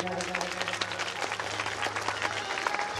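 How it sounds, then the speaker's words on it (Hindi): Applause from listeners at a Shrimad Bhagavat Katha religious gathering, a dense patter of clapping over a steady droning tone, with voices mixed in throughout. "एक बार इनके लिए जोरदार तालियां बजाएं।"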